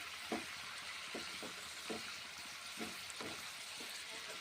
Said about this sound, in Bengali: নেড়ে চেড়ে কষে কষে রান্না করছি।